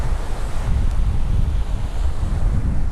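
Strong wind and breaking waves on a Punta Cana beach, a loud, steady roar of surf with heavy gusty buffeting, close and continuous with no voices.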